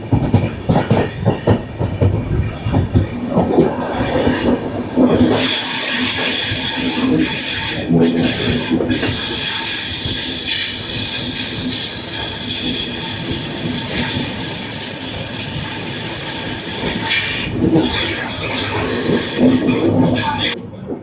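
Kirandul passenger train 58501 runs on the Visakhapatnam–Araku ghat section with loud wheel squeal and a steady clattering rumble on the rails, close and continuous, with faint voices now and then.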